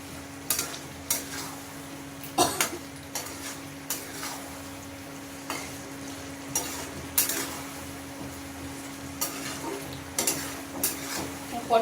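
Potatoes sautéed in oil in a pan while cooking a minced-meat and pointed gourd (potol) dish: a steady close sizzle broken by repeated scraping, clattering stirs of a spatula against the pan.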